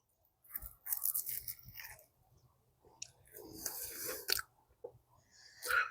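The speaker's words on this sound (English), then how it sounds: "Still got a little bit of crunch with the patties. Definitely the crunch with the bacon." Close, wet chewing of a chili cheeseburger with bacon and jalapenos, crunchy bites and smacking in several uneven bursts separated by short quiet pauses, with no talking.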